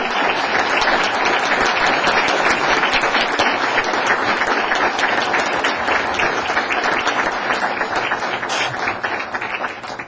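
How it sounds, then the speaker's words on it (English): Sustained audience applause at a city council meeting, dense steady clapping from a crowd that holds strong for about ten seconds before tapering slightly at the end, with no talking over it. "Give her a big round of applause."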